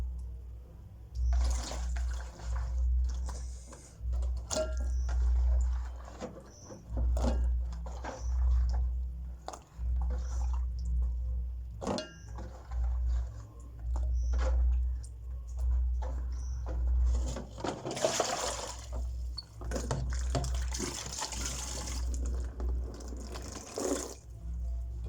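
Water sloshes and splashes in uneven bursts as clothes are washed by hand, close and fairly loud, with a steady low rumble underneath and no talking.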